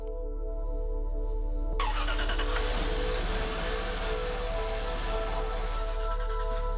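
A Bentley Azure's 6.5-litre twin-turbo V8 starts with a sudden burst, then settles into a loud, steady, throaty idle with a constant low drone, heard close and with no talking.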